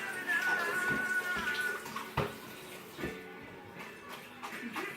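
Mostaccioli pasta being rinsed under running kitchen water, a steady moderate splashing stream with small clatters and drips, fairly quiet and continuous.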